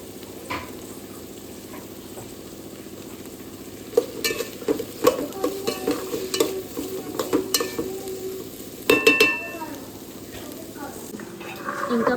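Ginger garlic paste fries in a pan with mint and coriander leaves, giving a steady sizzle broken by repeated scraping stirs of a spatula and occasional clinks of metal, all close by.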